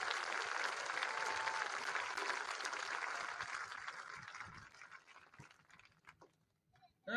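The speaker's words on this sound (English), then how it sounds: "Again, a round of applause for all of our accomplishments here this afternoon." Steady applause from a large high school commencement crowd fills the first several seconds, then thins into scattered claps and fades almost to silence before a brief loud burst at the very end.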